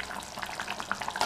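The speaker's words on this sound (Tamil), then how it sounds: "கட்டி விழாமல் பார்த்து கவனமாக கிண்டி விட்டுட்டே இருக்கணும்." Wheat rava upma is stirred in a pan, a close, continuous soft scraping and bubbling sizzle with small irregular wet clicks over a short stretch, no voices.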